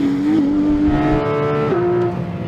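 A 2019 Porsche GT3 RS on a racing track holds a loud, high, steady engine note that rises briefly and then shifts gear, heard up close with no talk.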